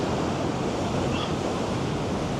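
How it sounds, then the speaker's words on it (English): Ocean waves break on the shore in a dense, continuous roar of surf, loud and steady, with some wind buffeting the microphone. "Oh, the waves are quite nice today."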